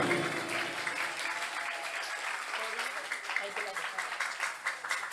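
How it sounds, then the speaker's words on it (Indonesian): A crowd of guests claps for a student's speech at a madrasah event marking the Prophet's birthday and Santri Day, a dense burst of applause that thins into scattered, uneven claps toward the end. "Mana tepuk tangannya untuk Rijal Wahyudi"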